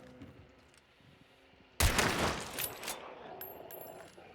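Gunfire in Hunt: Showdown bursts in suddenly after a quiet stretch, a loud cluster of shots and echoing cracks followed by scattered further reports and lingering reverberant noise.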